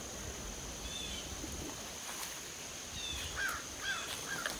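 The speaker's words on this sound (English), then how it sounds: "Hey crows, what's up? Love crows." Crows caw faintly in the distance along a quiet forest trail in a Massachusetts state forest, a few scattered calls over a soft, steady outdoor hiss.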